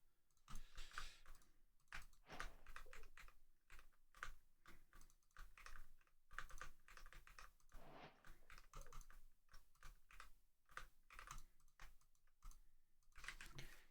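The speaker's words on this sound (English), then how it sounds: "I hate the way my spacebar sounds." Someone types fast on a computer keyboard with a loud spacebar while gaming, producing bursts of clacking keystrokes with brief pauses. The typing is close and continuous, with no talking.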